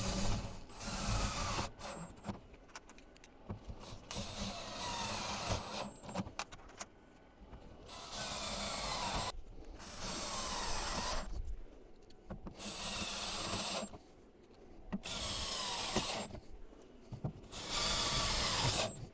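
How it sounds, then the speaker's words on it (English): Stainless steel T-drive screws being driven into a Ford Ranger tailgate with a power driver, in repeated whirring bursts of a few seconds each, separated by short pauses, close and moderately quiet. "just make sure you grab a T-drive bit, and then from there we can go through and screw them in."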